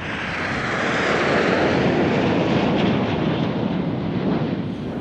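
Red Arrows jets fly at the Leuchars Air Show in 2011, making a loud, continuous roar that swells and holds steady throughout, with no voices.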